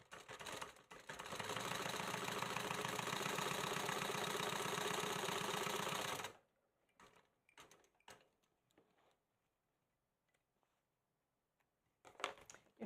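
A sewing machine top stitching fabric runs in a fast, steady whirring stitch for about five seconds, close by, then stops, leaving a few faint handling clicks and rustles.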